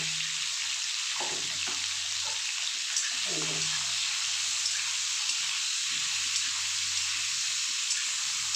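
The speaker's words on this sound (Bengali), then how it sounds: "পটলগুলো সব সুন্দর করে ভেজে নেব" Pointed gourd pieces fry in oil in a home kitchen, a steady bright sizzle running throughout, broken by a few soft knocks and stirring clatters near the start, with no talk.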